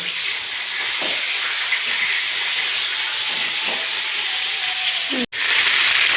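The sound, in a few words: pangas fish frying in oil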